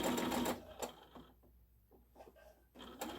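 A sewing machine back stitching while sewing a snap pouch, with a loud run of rapid needle chatter at the start, a quieter pause with small clicks, then a fresh burst of stitching at the end.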